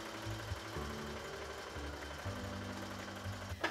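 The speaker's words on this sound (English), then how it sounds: "now I'm going to put a basting stitch across the waistband here to hold all these layers together" A domestic sewing machine runs a long basting stitch through many heavy layers of tulle at a dress waistband, a steady close mechanical hum with faint rhythmic knocking, running alone without a voice.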